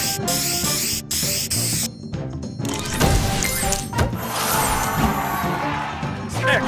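Spray booster effect in the mobile puzzle game Match Masters, a loud hissing, sweeping burst layered over bright game music and chiming match sounds, running for several seconds.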